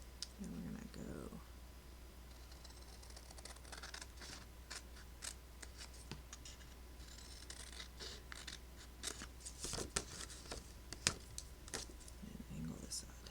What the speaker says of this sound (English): We're going to go up to that score line and cut that little strip off.